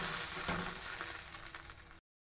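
Water poured into frying fish curry masala in a pan sets off a steady, moderately faint sizzle that stays even for about two seconds before cutting off.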